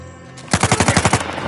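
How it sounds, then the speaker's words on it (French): Rapid automatic gunfire from the video game Uncharted 4, a loud burst of about eight close, evenly spaced shots lasting under a second. "Il tire, petit frère."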